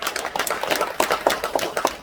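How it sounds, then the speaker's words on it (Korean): A small crowd gives brief, steady clapping for a guest introduced at a Confucian school elders' ceremony in Jinju, with distinct handclaps close by. "박수 부탁드립니다"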